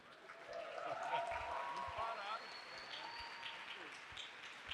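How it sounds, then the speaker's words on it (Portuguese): An audience claps at a university lecture event, producing a steady, dense wash of applause that holds for several seconds, with some tonal sound mixed over it. "Eu quero que vocês deixem uma salva de palmas"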